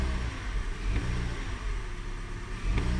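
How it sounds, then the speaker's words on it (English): A Hyundai Elantra engine idling smoothly on all four cylinders after a misfire fault was cleared, a steady low hum with a slight rise in revs near the end, heard up close without talk. "So this vehicle is running on all four cylinders again."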